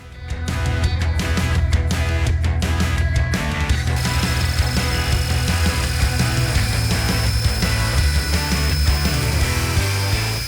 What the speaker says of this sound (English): This will safely and easily cut the aluminum.